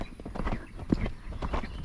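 Hooves of a horse ridden bareback at a quick lope, a steady rapid rhythm of thudding footfalls close by, with faint breathing and tack noise.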